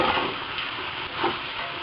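Ground black pepper is stirred into a pot of Molo soup, a brief steady swirling and scraping with a soft sizzling hiss behind it, close and unbroken with no voices.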